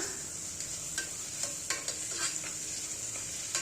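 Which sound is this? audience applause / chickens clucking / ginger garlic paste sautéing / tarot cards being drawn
ginger garlic paste sautéing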